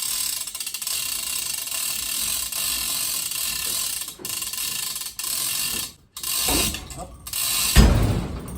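Floor jack ratcheting under an engine being lifted out of a car, a steady mechanical clicking and clanking that runs nearly continuously up close, with brief pauses and a heavier clunk near the end.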